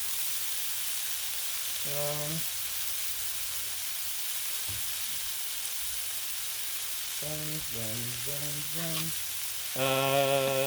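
Burger buns toast on a Blackstone flat-top griddle with a continuous close sizzle. Short bursts of voices come in partway through and again near the end.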